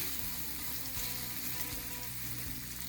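Shrimp frying in a pan, a soft continuous sizzle with a faint crackle, quiet and even throughout with no voices.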